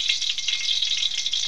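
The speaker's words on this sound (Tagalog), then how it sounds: "bali prito muna natin, so takpan muna natin" Fish frying in a pan, a steady bright hiss of sizzling oil with fine crackling spatter, close and even, with no talking.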